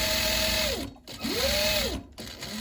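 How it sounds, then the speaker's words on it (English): A sewing machine stitches a half-centimetre seam on a fabric bag in two loud, steady runs with rising and falling motor whine, separated by brief pauses where the machine stops. "Sew our 1/2 centimetre seam allowance"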